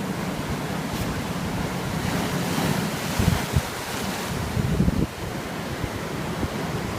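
Sea waves wash against the shore at Santa Ponsa, Mallorca, on a windy day, with steady broadband surf and wind buffeting the microphone throughout, swelling into a few louder gusts along the way.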